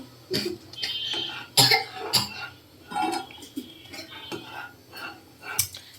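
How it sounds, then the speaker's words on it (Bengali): Tea leaves are stirred into boiling caramel tea in a pot, giving intermittent metal clinks and scrapes close by, with an occasional throaty, cough-like burst. "এখন আমি এটাকে ভালোভাবে নেড়েচেড়ে ফুটিয়ে নেব চা পাতাটা।"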